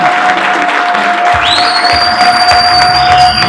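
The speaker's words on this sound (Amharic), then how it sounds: "አጨብጭቡላችሁ።" Church congregation applauding and cheering in celebration, a dense steady wash of clapping with whoops, while a sustained tone and later rising whistle-like tones sound over it.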